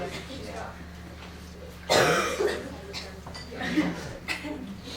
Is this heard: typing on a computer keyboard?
no